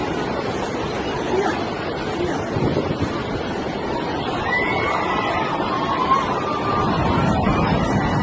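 Sea surf after the earthquake in Turkey and Syria, a steady broad wash of waves with wind buffeting the microphone and some low rumble, continuous and fairly loud throughout.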